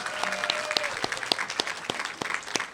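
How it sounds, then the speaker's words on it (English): An audience claps at a 2015 comic expo convention panel, a close, brisk run of applause with distinct individual claps throughout, briefly sustained with no voices. "Can we have a round of applause, please?"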